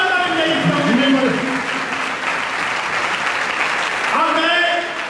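A congregation gives strong applause at a pastor's blessings meeting, dense steady clapping filling the room for several seconds, with a voice speaking briefly before and after.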